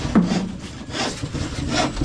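A hand saw cuts through wood in steady, rasping back-and-forth strokes, close and moderately loud, with a rhythmic scraping texture and no talking over it.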